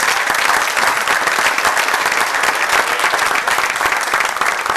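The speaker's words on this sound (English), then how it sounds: "I get a great round of applause to the Lynx team?" An audience at a startup pitch night gives loud, dense applause for a presenting team, continuous clapping from a packed room throughout.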